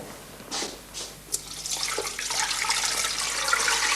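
Two litres of water poured into a cooking pot make a rising, steady splashing pour that builds in loudness and continues to the end, fairly close.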